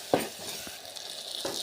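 Dried prawns, washed in hot water, hiss softly in oil, a faint continuous sizzle with a couple of brief spoon knocks at the start and end.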